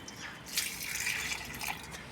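Liquid nitrogen fertilizer is poured from a cup onto a large guava plant, a soft continuous splash and trickle into soil, fairly quiet and close, with no talk.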